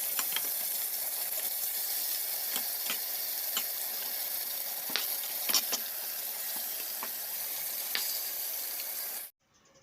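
Fish frying in a pan at home, a steady broadband sizzle with scattered sharp crackles and pops, continuous and fairly close, cutting off abruptly near the end.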